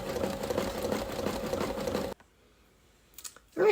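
A Brother embroidery machine stitches the outline of a patch with a steady, close, rapid mechanical chatter for about two seconds before stopping, followed by quiet and a brief clatter of handling.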